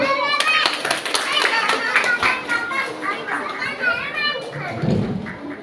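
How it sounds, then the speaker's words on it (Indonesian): Audience applause at a school award ceremony at an Islamic boarding school, a steady stretch of clapping from a crowd of students mixed with children's chatter and shouts throughout. "Berikan aplaus dulu."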